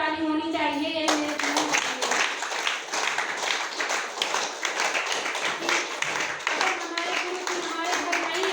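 Audience at a meeting bursting into loud, dense clapping after a spoken call for applause, a voice briefly heard before the hands take over and continue steadily with scattered voices underneath.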